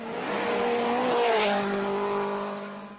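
A Mini WRC rally car, driven by Dani Sordo on a flowing stage of the 2011 Rally Italia Sardegna, screams past nearby, its engine note rising then dropping as it sweeps by.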